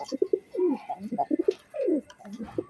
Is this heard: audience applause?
no